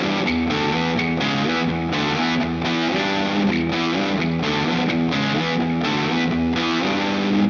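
An electric guitar played through a Fairfield Circuitry Roger That distortion pedal, loud and heavily saturated, strumming rhythmic chords in a steady chugging pattern with sustained fuzzy tone and no talking.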